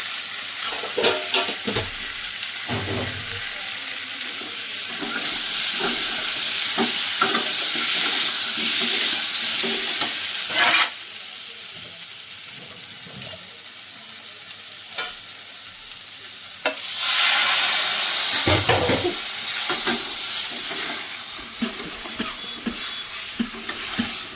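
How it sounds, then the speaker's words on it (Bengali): Spice masala with cumin powder fries in a pan, a strong steady sizzle with frequent scraping and stirring clatter, swelling into louder bursts of hiss partway through. "তো 2 মিনিট আমি একটু কষিয়ে নেব"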